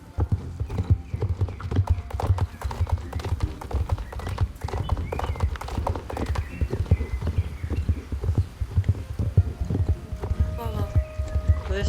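Lusitano horse in the Star Stable Online game, hooves clip-clopping in a steady walking rhythm up close, with occasional snorts and a background music tone, no one speaking.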